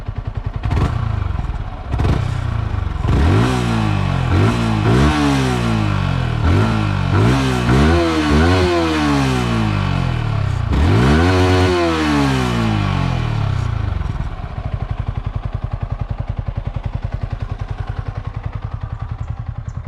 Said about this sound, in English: Let me show you the exhaust note of this bike. It's quite bassy actually in the top end.